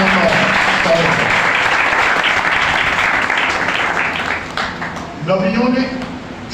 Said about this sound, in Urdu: یسوع مسیح کے لیے تالیاں، جو سارے اختیار کا سار ہے۔